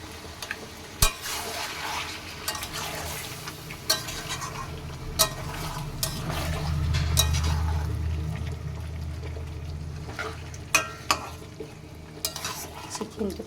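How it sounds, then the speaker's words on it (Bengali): Chicken with papaya simmering in a pan after water is added, with soft bubbling and sizzling under repeated sharp clinks of a spoon stirring against the pan. No one speaks. "এই যে আমার চিকেনটা এবার ফুটছে"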